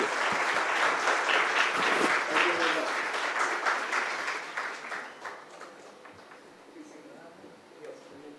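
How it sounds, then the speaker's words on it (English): An audience at the Arctic Circle India Forum ministerial session claps in sustained applause that is strongest at first and then gradually fades. "please applaud both the gentlemen who made this possible"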